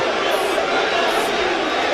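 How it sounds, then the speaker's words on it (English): Unhappy crowd at a celebrity boxing match between Portable and Carterefe, a dense, continuous roar of jeering and chatter in the arena with no clear breaks. "Well, the crowd aren't happy."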